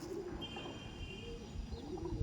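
A male Andhra pigeon among others coos in low, soft rolling calls that run steadily throughout, with faint background hiss and no talking.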